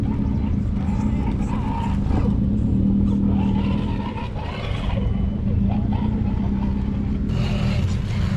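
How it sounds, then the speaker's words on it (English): RC cars riding past at a creek event, their motors whining and revving steadily over loud, continuous outdoor noise that dips briefly midway. "Catching some RC cars every so often as they ride by."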